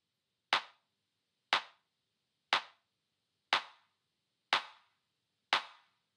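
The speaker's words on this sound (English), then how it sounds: "And the main clap." A single clap sample from a song mix, struck six times at an even one-per-second pulse, each hit sharp and dry with a quick decay, heard alone in silence.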